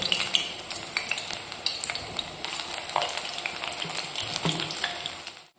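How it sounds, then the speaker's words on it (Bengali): Spring onion and gram flour fritters, made with chopped chilli and salt, fry in hot oil with a steady close crackling sizzle, broken by light stirring clicks and scrapes, and no talk. "এইদিকে পেঁয়াজ কলি ভাজা হচ্ছে বেসন দিয়ে"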